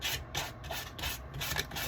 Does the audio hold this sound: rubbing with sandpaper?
yes